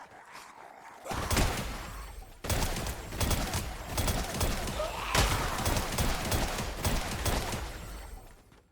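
Rapid bursts of gunfire in the roguelike shooter Lab Escape, dense crackling volleys that start abruptly and keep up almost continuously, loud and close, with a voice speaking faintly under the shots.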